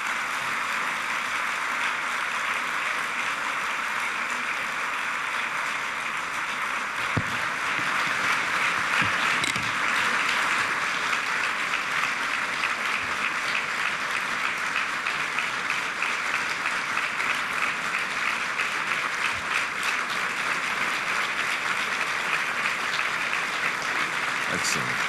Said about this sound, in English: It's the longest applause.